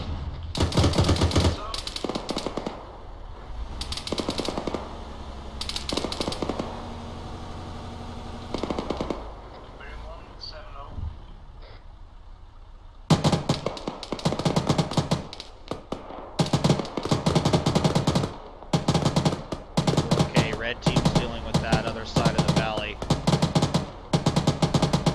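Sustained automatic gunfire rips through an ArmA 3 battle in Takistan, with long rapid bursts and dense volleys, a brief lull, then renewed heavy shooting, loud and close throughout.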